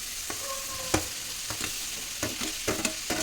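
Brinjals fry with softened onions in a home kitchen pan, sizzling steadily while a utensil scrapes and taps the pan in irregular strokes.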